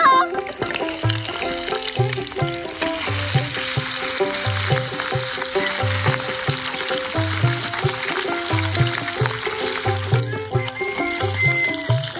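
Fish sizzles steadily in hot oil in a frying pan, a close, continuous crackling hiss lasting about twelve seconds, with a regular thumping pattern underneath and no talk.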